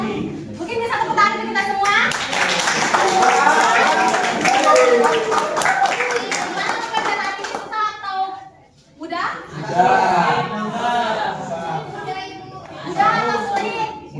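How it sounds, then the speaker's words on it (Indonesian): A class of students clapping their hands together at the close of a microteaching lesson, with children's voices and chatter mixed in; the clapping is steady for several seconds, dips briefly, then resumes under continued talk. "mungkin bisa tepuk tangan untuk kita semua"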